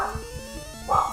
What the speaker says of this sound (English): Apologies if you hear barking in the background, that's just my my dogs.